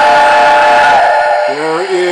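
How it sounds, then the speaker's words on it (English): A model steam locomotive whistle sounds loud and close, a sustained bright multi-tone blast that shifts to a lower chime-like pitch before ending. "here is the whistle"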